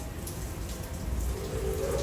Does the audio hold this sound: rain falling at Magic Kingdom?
yes